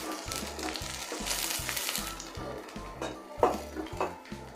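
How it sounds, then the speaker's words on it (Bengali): Chopped onion sizzles in hot mustard oil in a pan for bottle gourd with shrimp curry, a soft continuous frying hiss. Light clinks and scrapes of a spatula against the pan come and go, with no voices. "পেঁয়াজগুলোকে হালকা ভেজে নেব।"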